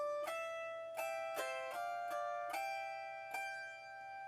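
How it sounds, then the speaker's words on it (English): Autoharp strings plucked one at a time with a finger pick, giving about seven bright, ringing notes spaced unevenly and decaying softly; quiet, close and with no talking. "I'm just plucking the strings with my finger pick"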